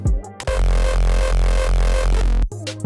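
Heavily distorted, booming raw tempo kick drum with full effects hammers a fast steady beat for about two seconds, loud and gritty, ending abruptly.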